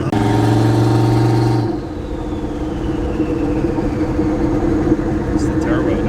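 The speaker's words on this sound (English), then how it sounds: "It's the turbo noise." A turbocharged LS engine car accelerates, a loud steady drone giving way to a rising whine and whoosh of boost building up close by, with no talking over it.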